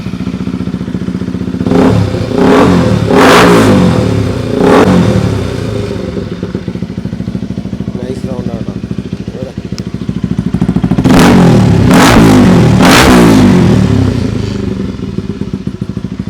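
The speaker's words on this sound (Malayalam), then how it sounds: "R1M സൗണ്ട് എക്സോസ്റ്റാണ് കൊടുത്തിട്ടുള്ളത്." A KTM Duke 200 BS3 motorcycle fitted with an aftermarket R1M exhaust revs in a workshop, with repeated sharp throttle blips in two clusters over a steady loud idle, close to the microphone.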